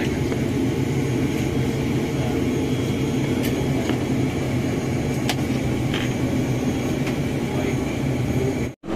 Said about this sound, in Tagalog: So merong isang paparating na aeroplano.